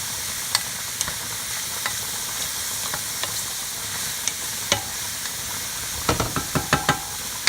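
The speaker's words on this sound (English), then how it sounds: "I'm just going to give it a quick little stir" Onion and other food simmering and sizzling in a hot pan while a spoon stirs it, a steady frying hiss with scattered scrapes and taps that cluster into quick knocks near the end.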